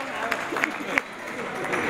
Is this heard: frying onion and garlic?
no